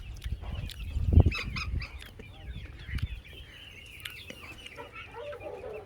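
Mixed flock of Australorp and desi hens and roosters on a farm, clucking and squawking in a busy overlapping chorus, with one louder call standing out near the start and the chatter continuing steadily.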